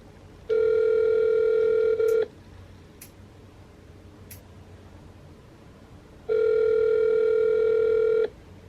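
A phone ringback tone sounds twice, each ring about two seconds long, separated by a long quiet pause, with faint clicks in between.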